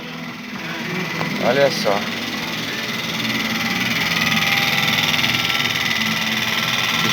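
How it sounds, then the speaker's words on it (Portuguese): A noisy refrigerator in a small Brazilian mini-market gives off a steady mechanical hum and drone that builds slightly over several seconds, with someone speaking briefly near the start. "Agora vai desvendar o barulho dessa geladeira aqui"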